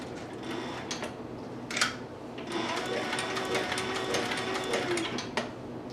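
A sewing machine stitching a leather long hunter's bag, running in a steady fast mechanical chatter with a brief pause near the start, fairly close and continuous throughout.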